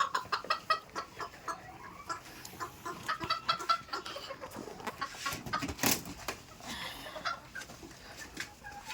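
Japanese bantam black tail chickens cluck softly in a farm pen, with a steady run of short, faint calls and scratchy background noise and no talking.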